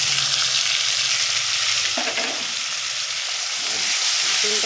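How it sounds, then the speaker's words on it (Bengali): Onion paste fries in hot oil in a pan with a loud, continuous, hissing sizzle, close by, and a few faint clinks and stirs underneath. "এবার আমি পেঁয়াজ বাটাটা দিয়ে দিচ্ছি"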